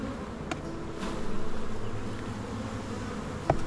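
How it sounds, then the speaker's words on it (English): Honey bees buzz in a dense, steady outdoor drone as frames of bees are shaken into a box, with a couple of sharp knocks from the frames against the box. "I'm gonna shake at least 2 frames of bees into here"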